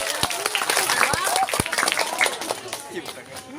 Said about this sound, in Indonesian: tepuk tangan sekali lagi buat Iban.